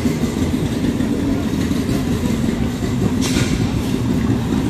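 A homemade engine with a single shared intake and exhaust port runs steadily, producing a loud, continuous low rumbling drone with no pauses, and no one talks over it.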